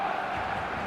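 Steady, dense roar of a stadium crowd at an eFootball video game match, a continuous wash of many voices holding level throughout without distinct cheers or peaks.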